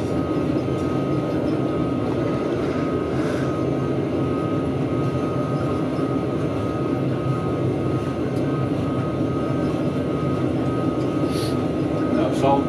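Engines of a Boeing 737-800 flight simulator at Lelystad Airport held at full throttle, a loud, constant roar filling the cabin throughout, with faint voices talking over it.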